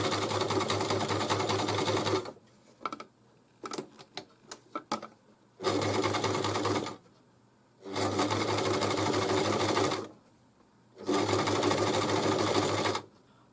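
A sewing machine runs zigzag stitches through stretch knit fabric in three loud, steady bursts. Between them come quiet pauses with small clicks and handling noises.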